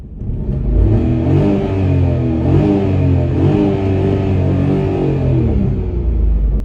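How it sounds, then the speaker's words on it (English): A Renault Kwid's 3-cylinder engine revs in a traffic jam, a loud, close, throaty drone that climbs and wavers in pitch steadily with no talking over it. "Let's take advantage of this traffic jam to listen to a 3-cylinder engine a little bit."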